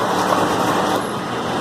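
A 12-valve truck doing a burnout gives a steady, loud roar of engine and tire noise that holds without a break for the short stretch, with no talking.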